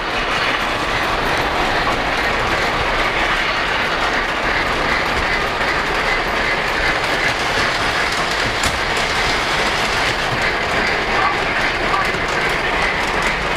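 Polar Express model railroad train running around a layout, a steady loud rush of clickety-clack wheel and track noise throughout, close by, with no voices.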